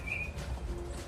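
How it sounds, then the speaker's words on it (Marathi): A bird chirps clearly a few times in the foreground, with more birdsong behind it and a low outdoor rumble underneath, beside a lake with dense trees in the USA. "मस्त पक्ष्यांचे आवाज येत आहेत."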